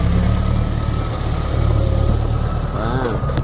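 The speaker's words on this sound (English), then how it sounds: "Look, it's a big tractor." A big tractor idles nearby with a steady, loud low engine rumble throughout, and a voice talks briefly near the end.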